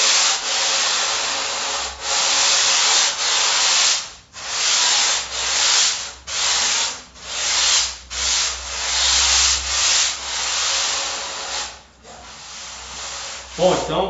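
Hand sanding along a surfboard blank to chamfer the nose, a run of close, coarse back-and-forth rubbing strokes with short pauses between passes.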